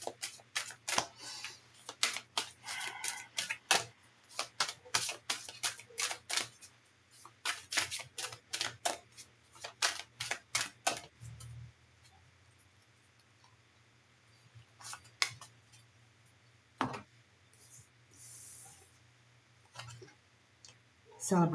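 Quick bursts of crisp riffling and clicking come in rapid clusters, then thin out into scattered snaps, close and fairly loud with pauses between.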